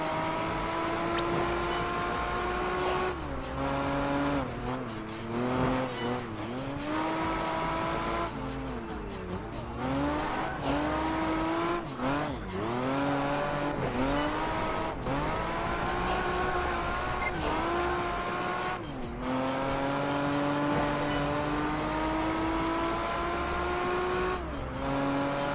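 Race cars roar through a street race in Project Gotham Racing 4, engines revving and shifting continuously with rising and falling pitch, occasional tire squeals, loud and close throughout.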